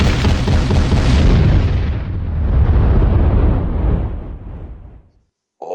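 Massive MOAB bomb explosion: a loud, deep booming blast that rolls and rumbles for several seconds before fading out abruptly into silence.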